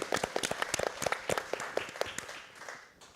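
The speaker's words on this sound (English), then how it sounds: "A round of applause for all of them." A small audience at a community event claps in a short round of applause, a dense patter of hands fading away over about three seconds with no talk on top.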